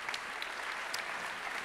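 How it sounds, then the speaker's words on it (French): Audience applause at an awards ceremony, a steady wash of many hands clapping from a hall full of people, fairly distant and even throughout with no talk over it. "On les applaudit très fort tous les 5."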